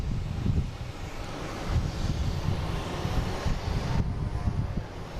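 Distant Cape Air plane droning overhead near Boston Logan International Airport, a low steady engine rumble mixed with gusty wind buffeting the microphone, no voices.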